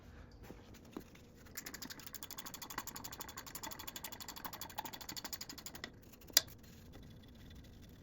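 Ratcheting wrench backing 10mm nuts off the muffler of a John Deere 425 garden tractor, a quiet run of rapid metallic clicks with a few sharper ticks, close and alone.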